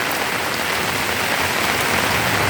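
Steady rain pours down on a rainy day along a tree-lined road, a dense, continuous hiss of drops striking surfaces with no voices.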